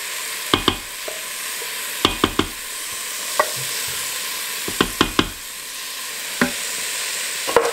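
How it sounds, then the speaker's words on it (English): Home-canned tomato sauce poured into softened vegetables and spices in a hot pan, a steady sizzle punctuated by sharp clacks of a utensil stirring against the pan. "you're gonna add your tomato sauce"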